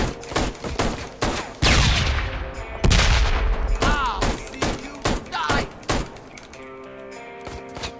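Bursts of gunfire in the Ride To Hell: Retribution video game, a rapid fusillade of loud close shots in clusters with short gaps between them, fading to quieter sounds at the end.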